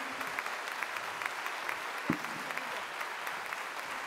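At a talk given by a family caregiver of someone with Alzheimer's, the audience applauds softly. The clapping is a faint, even patter that sounds distant and steady from start to finish.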